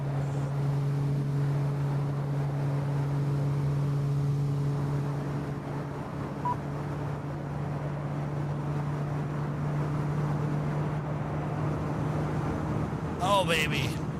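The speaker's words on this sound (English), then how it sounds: "Oh baby, listen to that engine." A simulated iFly Boeing 737 MAX 8 jet engine in Microsoft Flight Simulator gives a steady, close, loud broadband roar with a low humming drone that holds level throughout, and a brief rising chirp cuts in near the end.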